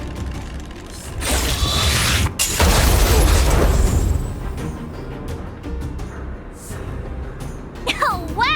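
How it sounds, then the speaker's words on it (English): A large explosion detonates in Honkai: Star Rail, a deep boom from an automaton stealth bomb rolling into loud rumbling debris and mechanical clatter, fading into quieter game ambience with a rising whine near the end. "We wiped them all out in a single explosion!"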